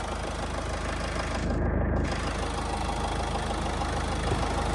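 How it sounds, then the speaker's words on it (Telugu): A 2018 Ford EcoSport Titanium diesel engine idles steadily up close, with a continuous low rumble and a faint knocking clatter and no voices. "సింగిల్ సెల్ఫ్లో బండి స్టార్ట్ అవుతుంది, ఎటువంటి స్టార్టింగ్ ట్రబుల్ అయితే లేదు సార్"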